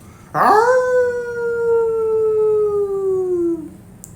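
A man throws back his head and lets out a single long, loud wolf-like howl, a voice imitating a wolf that rises sharply, holds a steady tone for about three seconds, then slides down and stops.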